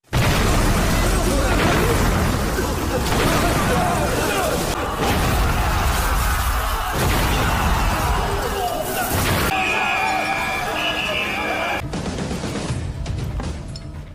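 Massive film explosion blasts through a prison during an escape, loud and dense from the start with crashing debris and rumbling booms, then shifting to lighter clattering and ringing tones near the end; no speech.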